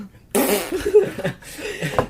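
A novelty fart machine set off by remote control lets out a loud, drawn-out, sputtering fart noise that runs on in several bursts, heard alone without talk.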